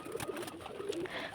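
Pigeons cooing in a crowded pigeon house, soft repeated low coos heard close by and faint against a quiet background.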